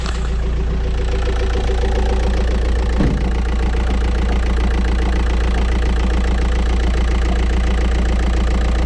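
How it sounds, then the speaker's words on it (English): A VW T5 van engine idles steadily after a jump start, a loud, close, continuous diesel rumble with an even mechanical chatter and no voices. "as you can hear, the engine is running"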